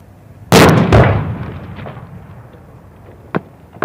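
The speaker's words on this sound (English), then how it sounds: "and wait for the explosion" Breaching charges set off by Garud commandos at windows: two loud, close blasts in quick succession, each with a rumbling tail, followed by a quieter crack near the end.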